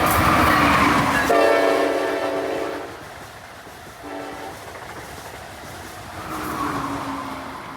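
An Amtrak double-ended regional train passes close and loud on the Northeast Corridor, with a horn blast early on and a rushing, clattering roar that fades and then swells again.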